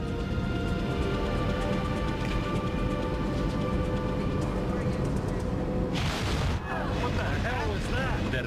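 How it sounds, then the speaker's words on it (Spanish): A violent explosion shakes an airplane: a dense, continuous rumble of engine and cabin noise, then a sudden broadband burst of blast and shaking, with a voice speaking over much of it. "De repente, una violenta explosión sacude el avión."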